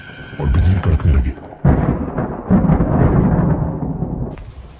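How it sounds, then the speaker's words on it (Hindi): Heavy rain with rumbling thunder breaks out suddenly at night outside a deserted station; a loud, dense roar with deep rolling booms that fills the whole stretch. "तभी अचानक बाहर तेज बारिश शुरू हो गई और बिजली कड़कने लगी।"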